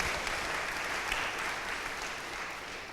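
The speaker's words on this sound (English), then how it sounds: "Give him a round of applause." A live audience at a GLIDE talk with Van Jones applauds a friend, a steady, dense wash of many hands clapping that holds evenly for about three seconds with no voices on top.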